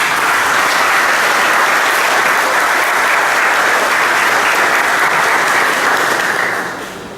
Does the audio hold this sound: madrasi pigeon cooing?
no